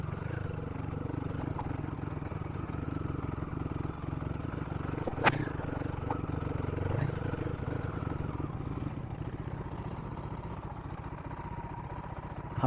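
Royal Enfield Guerrilla 450 motorcycle in first gear on an off-road trail, a steady low engine drone with faint clatter and a sharp brief click midway.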